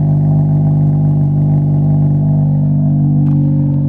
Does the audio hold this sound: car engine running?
yes